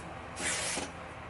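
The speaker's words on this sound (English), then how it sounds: "I love this hairspray because it's just like gives you body without giving you that tacky feeling" Hairspray hisses onto fine, soft hair for a beachy style in one short, close burst of about half a second, standing out over a quiet room.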